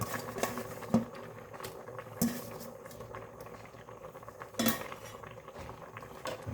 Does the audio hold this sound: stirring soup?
yes